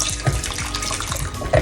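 Tap water pours steadily into a pot of potatoes in a home kitchen, a continuous close splashing rush with a few brief knocks.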